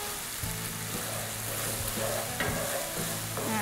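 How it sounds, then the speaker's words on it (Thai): Thai red curry paste stirred with sugar in a hot pan, for a spicy stir-fry of crispy fried catfish, gives off a low steady sizzle broken by a few dull scrapes and knocks of the spatula against the pan. "รอให้น้ำตาลละลายนิดนึงเราค่อยๆคนไปเรื่อยๆนะคะ"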